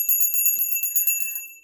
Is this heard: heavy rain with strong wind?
no